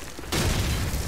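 A grenade goes off in Call of Duty 4 Modern Warfare, a sudden, loud, booming blast with a broad rumbling burst that cuts in after a brief quiet moment.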